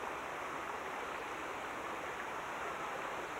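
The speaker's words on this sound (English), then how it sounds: "This is the water running from the stream coming from the waterfalls from the cave." Water from a cave waterfall runs down a stream in Arkansas, a steady, full rushing wash that holds constant throughout with no voices.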